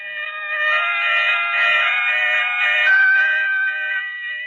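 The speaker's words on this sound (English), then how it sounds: "It was a scream." A long, sustained, high wailing scream fills a radio drama scene, loud and close, swelling and holding for several seconds before trailing off.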